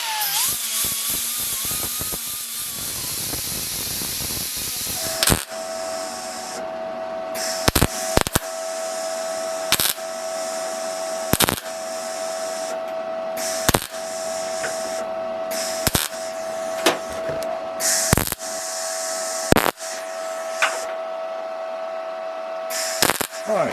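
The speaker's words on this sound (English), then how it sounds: "We're just going to fill in that one. I'll grind that clean." An angle grinder cleans up a weld on a steel Mercedes W108 trunk lid being fitted to a W109, a loud harsh grinding burst for about five seconds, then quiet with a steady hum and scattered sharp clicks.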